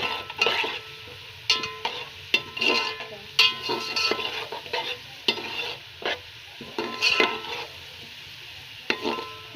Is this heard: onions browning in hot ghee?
yes